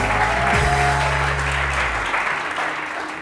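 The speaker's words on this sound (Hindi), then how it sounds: "बहुत सारी तालियां सदफ के लिए" Studio audience on a Pakistani TV morning show applauds panelist Sadaf with a sustained, loud wash of clapping from many hands, a low musical sting underneath that fades out midway.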